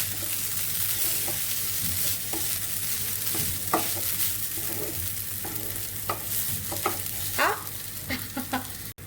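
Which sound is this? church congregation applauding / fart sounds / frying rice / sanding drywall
frying rice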